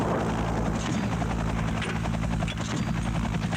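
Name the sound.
Afghan Air Force Mi-8 helicopter arriving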